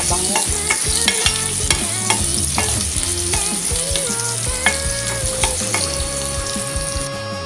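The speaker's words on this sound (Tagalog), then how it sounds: "Haluin lang hanggang sa mag-brown ang ating bawang para mabango." Garlic frying in a pan sizzles loudly and continuously while a spatula stirs it, with frequent close scrapes and clacks against the metal.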